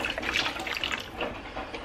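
About 200 ml of homemade stock is poured over potatoes and a gammon joint in a cooking pot, a steady close splashing trickle of liquid heard alone for a couple of seconds.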